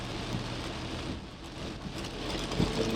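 Steady monsoon rain falling in hilly terrain on the mountain road from Islamabad to Toli Peer in Azad Kashmir, a dense continuous patter on surfaces with a brief low thump near the end.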